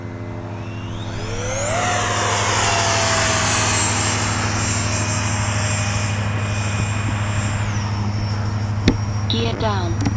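Freewing A-6 Intruder 80mm EDF RC jet passing by, a loud rising whine that sweeps up as it approaches and holds a sustained high-pitched turbine-like scream, with engine drone underneath and a brief click near the end.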